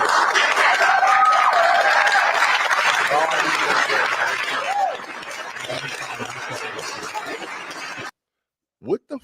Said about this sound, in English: What the fuck are y'all clapping for?